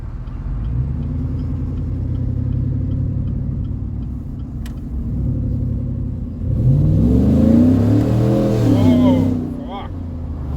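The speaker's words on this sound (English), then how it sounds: "that's the Walkinshaw full exhaust system" A Chevrolet Silverado 1500 with a Walkinshaw full exhaust system idles with a deep, steady rumble, then revs hard in a loud, swelling burst before settling back, heard up close.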